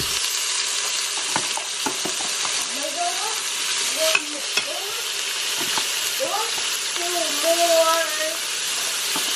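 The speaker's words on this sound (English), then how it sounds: "just some garlic. Okay, now it's burning a little bit." Garlic sizzles and fries in a pan, a steady crackling hiss with occasional clinks of stirring, while a person talks over it at moderate volume.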